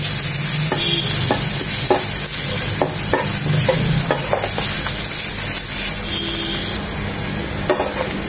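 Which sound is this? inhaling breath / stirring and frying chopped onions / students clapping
stirring and frying chopped onions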